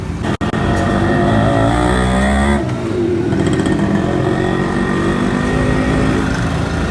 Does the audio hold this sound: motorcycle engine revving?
yes